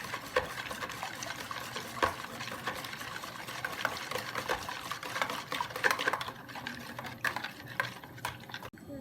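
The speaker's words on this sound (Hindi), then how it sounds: "और इसको अच्छे तरीके से मिक्स कर लेते हैं।" Ingredients for dahi baray, seasoned with chaat masala, are stirred and mixed in a bowl. Soft wet scraping and clicking strokes repeat quickly and steadily at close range and low level.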